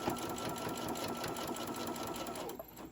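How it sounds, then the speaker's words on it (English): Sewing machine running continuously while stitching a ruffle-trimmed tote bag: a fast, even mechanical whirr close up that winds down and stops near the end. "if you don't want to keep sewing right here, all you have to do is lift up your presser foot and drag your project"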